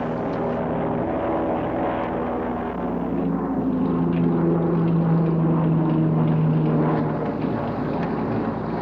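A propeller plane drones steadily overhead above a channel where divers are working, a continuous low hum with a faint wavering pitch that stays constant throughout, no voices.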